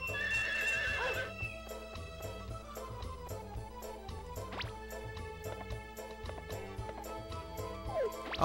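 A horse in the Harvest Moon 64 video game whinnies loudly at the start, then its hooves clip-clop in a quick, steady rhythm alongside bright game music and chimes.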